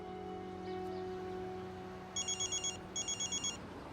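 An electronic telephone ring sounds in two clear bursts of rapid pulsed trills, each about half a second apart, over a steady indoor hum, with no one speaking.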